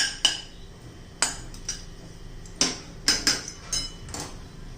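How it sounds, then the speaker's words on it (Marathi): A spoon scraping and tapping against a pan while semolina roasts in ghee, a handful of distinct metallic clinks and scrapes spaced irregularly, close and fairly quiet. "हलवत राहायचं एकसारखं"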